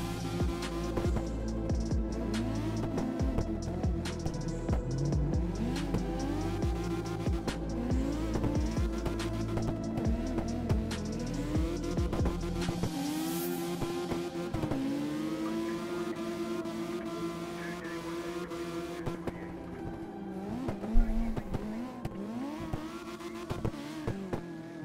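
Car engine in the CarX Drift Racing Online video game, revving and shifting through repeated rising and falling pitch sweeps, steady and continuous with a few rapid throttle blips and one sharp bump near the end.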